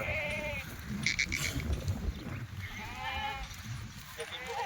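Goats bleating a few times amid a busy outdoor herd that includes Kathiawadi buffaloes, with people talking loudly nearby over the calls.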